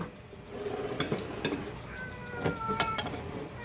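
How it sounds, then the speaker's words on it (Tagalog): A hungry pet cat meows for food in a home kitchen, a few short cries rising over soft clinks of dishes and utensils, fairly close but not loud. "Yung pusa namin dito nag-iingay na kasi nagugutom na daw siya."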